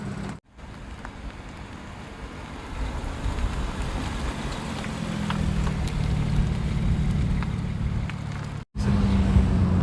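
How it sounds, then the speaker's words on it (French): BMW 335i E91 wagon with emptied, near straight-through exhaust mufflers, a loud, deep engine drone that climbs steadily under acceleration, heard close and continuous for about ten seconds, with two brief dropouts. "J'ai même pas eu le temps de démarrer qu'il avait déjà accéléré"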